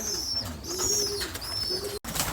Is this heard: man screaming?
no